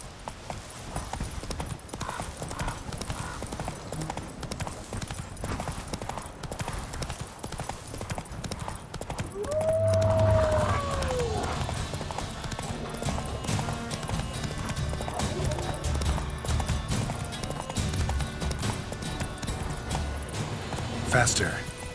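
Roach, a horse in The Witcher 3, gallops with steady rhythmic hoofbeats, close and fairly loud, alongside game music; a brief whinny rises midway.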